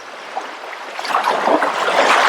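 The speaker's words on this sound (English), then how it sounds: "if you put that shell next to your ear, you can hear the ocean" Soft, steady ocean-like whoosh as if from a big seashell held to the ear, a hollow broadband rush that swells slightly toward the end, with no voices.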